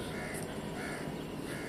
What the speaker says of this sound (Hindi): कवे चहचहा रहे हैं।